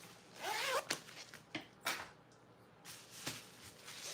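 A metal zipper is handled and slid in short bursts while a bag is sewn, with brisk scratchy rasps and clicks separated by quieter fabric handling, close up and with no talk.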